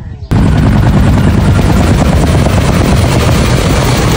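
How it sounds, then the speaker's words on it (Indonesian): A toy helicopter gives off a loud, close, continuous whirring clatter that starts suddenly and runs steadily without a break. "Ada helikopter."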